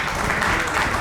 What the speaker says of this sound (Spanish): Denle un aplauso a Charlie